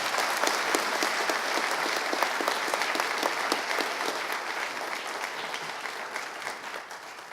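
Sustained applause from a commencement audience welcoming the speaker, Dr. Margaret Crouse, dense and steady clapping filling the hall for several seconds before fading slightly, with no speech over it.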